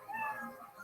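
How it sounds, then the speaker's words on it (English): A cat-meow sound effect used as a timer signal: one short, clear meow rising and falling, heard alone and fairly quiet. "You know your 60 seconds is up when you get the sound of the kitty."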